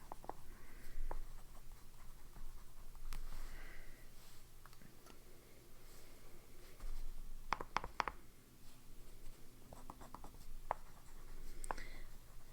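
An Aurora DuoCart fountain pen with a very smooth nib scratches faintly across paper, producing soft, intermittent strokes with brief taps between them in a quiet room.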